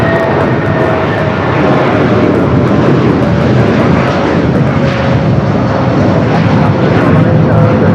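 A jet airliner departing Los Angeles International Airport for Dallas roars loud and steady throughout, a broad continuous engine rumble with a faint high whine, sounding close.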